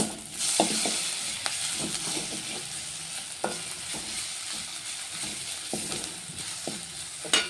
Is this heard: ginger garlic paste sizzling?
yes